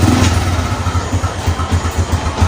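A motorcycle engine, kick-started, runs at a steady idle, its low, even rumble loud and close throughout with a continuous rhythmic throb.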